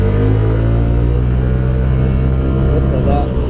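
Honda PES 125 motorcycle engine revving hard on the throttle, a loud, steady, close drone held for several seconds with rising pitch near the end.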